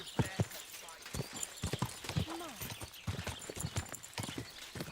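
Quick clip-clopping hoofbeats of a horse on a hard surface in the video game Kingdom Come: Deliverance II come in a rapid, uneven rhythm, with a voice breaking in over them.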